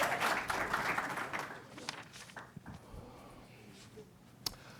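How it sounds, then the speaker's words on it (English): Audience applause at a city council meeting, a brief round of clapping that fades after about two seconds, leaving scattered claps and quiet room noise. "Let's give them a round of applause"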